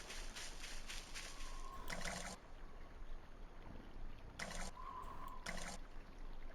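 Water pouring in the video game Voices of the Void, heard as a few separate bursts of trickling splash, each lasting under a second, over a steady quiet background hum.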